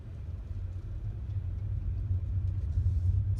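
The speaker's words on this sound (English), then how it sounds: "So right now we're driving straight" A car moving straight ahead after a gentle press on the accelerator, giving a steady low engine and road rumble that builds slightly in loudness, close and continuous with no talk.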